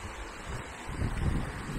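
Gusty wind buffets the microphone at the seaside at Kep, Cambodia, a low, steady rumble that swells and thickens partway through, with faint surf beneath and no voices.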